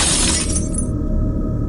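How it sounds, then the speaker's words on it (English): A mirror's glass surface shatters under force, a bright, loud crash of splintering glass that fades over about a second into a dull low rumble. "The mirror's surface splinters from the force."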